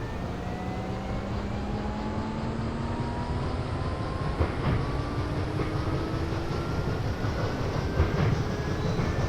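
A KR5000 Series train on the Fukugawa line, in a train driving video game, runs on rails with a steady rumbling roar, a motor whine that rises slowly as it speeds up, and a few faint clacks over the track.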